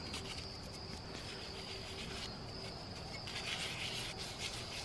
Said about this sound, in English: I can pretty much scrub my finger across it and take it off.